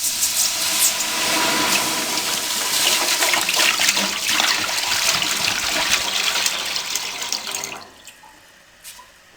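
About 4 liters of water pour into a cooking pot on a stove for desi saag, a steady loud rushing splash for nearly eight seconds that stops abruptly, leaving faint drips and clinks.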